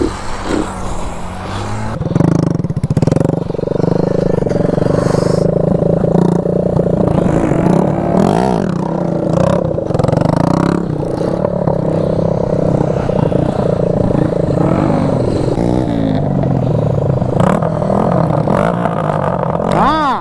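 A Bajaj CT 100 motorcycle revs hard and continuously during wheelie stunt training, the engine note close and rising and falling with the throttle for the whole stretch, with a rattling clatter underneath and a voice talking at times.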